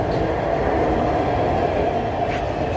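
Loud, steady rumble of a Lahore Orange Line metro train in motion, a continuous low roar filling the whole stretch with no voices.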